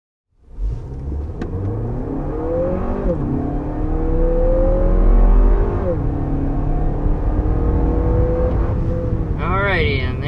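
A 2024 Lexus NX 350 pulls hard from a standstill toward 60 mph, its engine note climbing steadily through the gears with brief dips at each shift, a loud, continuous rumble and whir heard from inside the cabin.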